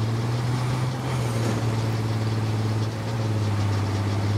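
A truck engine idling in the video game State of Decay 2, a steady low rumble with a constant hum that holds evenly throughout and has no other sound over it.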